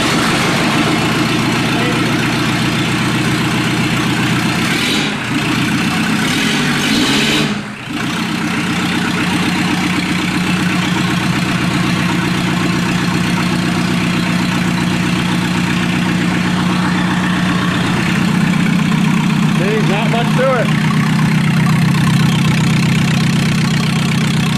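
An old free diesel motor with glow plugs, called a swinging diesel, cranks and settles into a steady loud idle, its low chug running continuously and rising slightly in pitch near the end; a voice speaks briefly over it.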